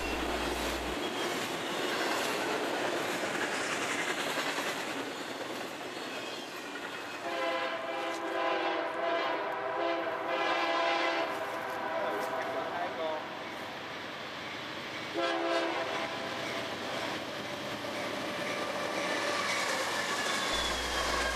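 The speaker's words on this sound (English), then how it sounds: "Here we see another eastbound train rounding the curve at Amsterdam, New York." A long CSX freight train hauled by two General Electric GEVO locomotives rumbles past on a curve at Amsterdam, New York, with steady wheel and engine noise, while a deep multi-tone horn sounds twice, long and loud, partway through.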